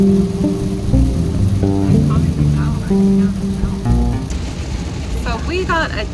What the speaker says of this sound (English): So we got a downpour right now. It is raining really, really hard.